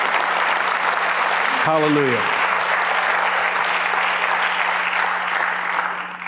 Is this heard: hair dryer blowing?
no